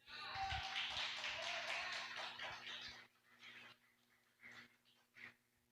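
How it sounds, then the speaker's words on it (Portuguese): A church congregation applauds after a sermon at a Paz e Vida service in Itaguaí. A burst of clapping lasts about three seconds, then fades into scattered claps and light noise. "Você pode aplaudir a Ele mais uma vez?"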